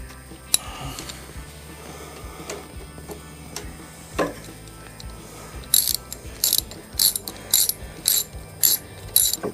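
A 3/8 ratchet wrench clicks in quick repeated bursts while tightening a bolt on a Bolens riding mower, the sharp ratcheting near and clear after a few scattered knocks and handling sounds.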